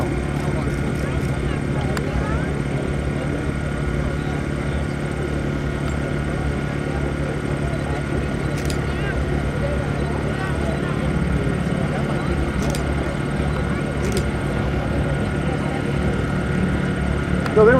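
Steady, loud drone of a C-47 with Pratt & Whitney radial engines at a World War Two paratrooper drop airshow in Michigan, a continuous propeller roar throughout, with faint voices beneath.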